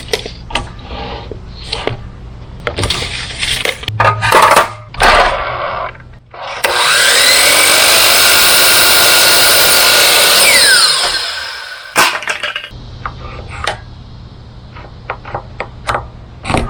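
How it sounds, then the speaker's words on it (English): A nail gun fires into base molding during a half-bath remodel, with sharp, loud single shots spread across the start and end and a long, steady power-tool roar in the middle. "Now let's shoot some base molding"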